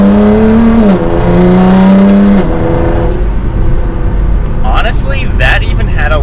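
A Nissan GT-R R35 with its exhaust valve open accelerates hard, its engine note climbing steadily through a gear, falling at a shift and rising again before it fades into road and wind noise. A voice speaks under it.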